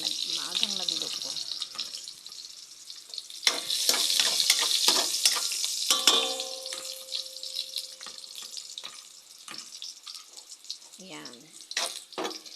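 Garlic frying in a pan for ginisang monggo, a bright crackling sizzle that surges when the garlic goes in, with clinks and stirring scrapes; someone speaks over it at intervals.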